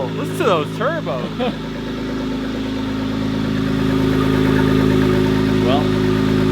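An Acura NSX fitted with big turbos and a full exhaust runs with a steady engine drone that builds gradually, while people talk over it at the start.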